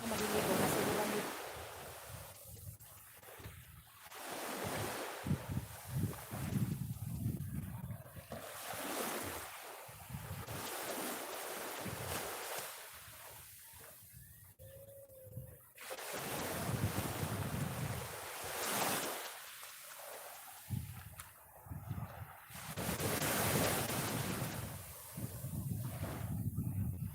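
Beach surf washes in and out under strong gusting wind buffeting the microphone, a continuous loud roar with rhythmic swells on a breezy shore.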